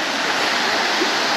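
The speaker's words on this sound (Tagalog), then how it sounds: "Tigdagan Falls and Forest Park. Sobrang ganda. Ang lamig ng tubig." Rushing water at Tigdagan Falls in Southern Leyte, a steady broadband roar of the waterfall that stays close and even throughout, with no voices.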